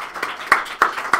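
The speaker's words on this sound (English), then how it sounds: "Round of applause." Clapping for game jam teams at a Global Game Jam presentation in Louisville, Kentucky: a handful of sharp, evenly spaced claps, close and moderately loud.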